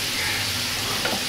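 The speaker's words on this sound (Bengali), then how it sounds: "এখন আমরা শুটকিটা দিয়ে দিব, আমরা এটাকে শীতল বলে থাকি, শীতলটা একটু ভেজে" Dried fish (shidol) frying in a pan, a dense, steady sizzle that fills the short moment without pause.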